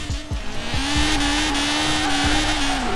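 A Honda Civic R in Forza Horizon 4 screams at high revs through a drift, the engine note held steady and loud, with brief gear changes or throttle lifts and tire noise beneath.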